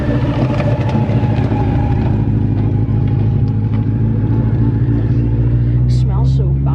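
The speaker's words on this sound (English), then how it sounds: "We're gonna see the cool cars fly past." Classic cars roaring past Thirlestane Castle during a car show, a loud continuous low engine rumble with rising revs, heard close with brief bursts of nearby voices over it.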